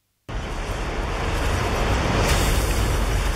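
Crash and ride cymbal samples sound together in a pop punk drum mix, a loud, bright, sustained wash of cymbal noise that starts abruptly and rings on without decaying.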